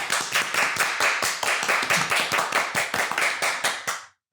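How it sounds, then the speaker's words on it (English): A small group claps together in steady, even beats, around two claps per second, loud and close, then stops abruptly. "Let's like clap right now"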